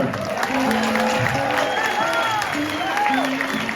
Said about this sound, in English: how about a big round of applause for all these people here?